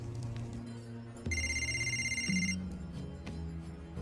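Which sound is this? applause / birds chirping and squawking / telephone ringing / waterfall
telephone ringing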